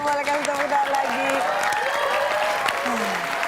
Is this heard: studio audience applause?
yes